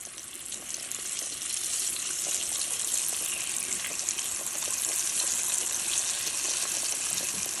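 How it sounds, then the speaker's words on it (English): Pieces of Haitian pork griot, first dipped in lime, salt and water, fry in hot oil with a steady, even hiss and crackle that holds close and loud without a break. "I'm going to add them carefully back to the oil and allow them to now completely fry."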